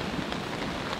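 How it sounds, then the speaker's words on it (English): Light rain patters steadily outside a tent during a camping trip with a tarp and rock wall shield, a soft, continuous hiss of drops on the surface with no voices. "It actually sounds like it's beginning to rain out there a little bit."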